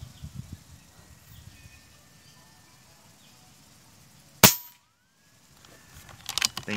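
A single sharp crack from an Avenger Bullpup air rifle firing a pellet, loud and close, followed by a brief quiet, with faint background noise and rustling before and after.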